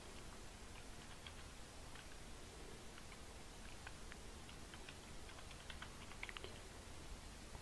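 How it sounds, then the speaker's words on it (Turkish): A password typed on a keyboard: faint, irregular light key taps over a steady background hiss, quiet and close. "Şifremi yazıyorum."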